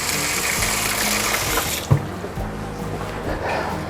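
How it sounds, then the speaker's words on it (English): Tap water runs steadily in a home kitchen while something is rinsed under it during Southern brunch cooking, a continuous close hiss with a brief clunk partway through. "I'm gonna rinse this off now."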